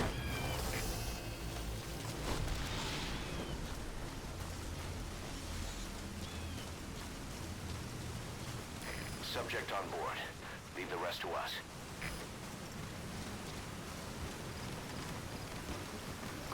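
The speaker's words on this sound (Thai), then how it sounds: "Caution, rain approaching." Steady rain in Metal Gear Solid V hisses at low level throughout, a soft even wash with faint scattered patters and a few brief tonal calls in the middle.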